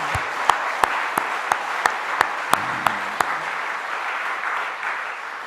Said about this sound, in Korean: 우리 하나님께 영광의 박수를 한번 돌립시다